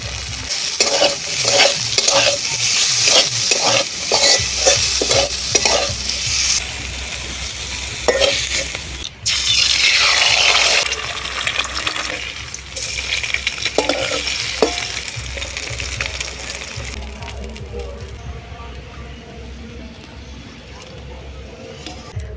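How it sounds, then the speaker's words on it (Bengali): Green chillies and chopped onion stir-fry in oil, with loud, rhythmic spatula scraping and stirring over a constant close sizzle that eases toward the end; a voice speaks briefly over the cooking. "এবার দিয়ে দিচ্ছি সেরা কাঁচা লঙ্কা পেঁয়াজ কুচি"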